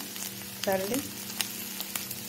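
A curry side dish for chapati sizzles as it fries in a pan, a steady soft crackle with a few brief sharper pops and a short voiced sound near the start.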